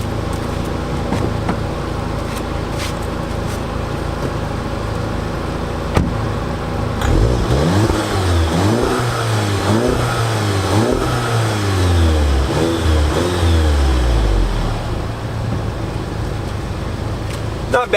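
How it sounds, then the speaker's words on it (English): A Volkswagen Golf GTI idles, then revs hard several times in deep, throaty bursts from the exhaust, loud and close, before settling back. "It's got a nice throaty sound to it, and that's your GTI exhaust sound."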